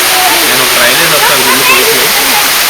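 A waterfall pours fast from a high hill at Siddaramappa Kolanu near Srisailam, a loud, unbroken roar of rushing water close by, with faint voices mixed in.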